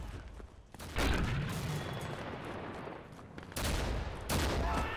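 Repeated loud grenade explosions and bursts of gunfire in a chaotic battle in the game Mare Nostrum, with heavy booms at the start and near the end.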